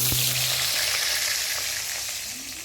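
Vegetables frying in hot oil make a dense, even sizzle close by, with a brief clunk at the start, fading slightly over a couple of seconds, with no voices.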